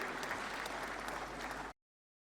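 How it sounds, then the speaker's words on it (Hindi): Audience applause at India's 68th National Film Awards ceremony, a dense sustained clapping from a large crowd heard at a distance, continuing evenly for under two seconds before cutting off abruptly into silence. "श्री करणवीर सिंह सिबिया के लिए जोरदार तालियां"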